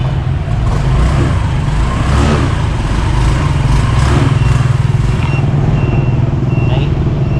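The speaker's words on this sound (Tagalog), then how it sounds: "Ganyan ang tunog ng ating Honda Click." Honda Click 125i V3 2023 scooter engine idling steadily, a constant low motor hum up close with faint outdoor background noise and no talking.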